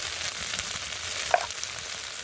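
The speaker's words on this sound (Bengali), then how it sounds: "খুন্তি দিয়ে আর একটু ভালো করে নাড়াচাড়া করব" A spatula stirs spices with turmeric, salt and Kashmiri chili powder in a sizzling pan. A continuous gentle frying hiss carries one sharp metallic clink near the middle.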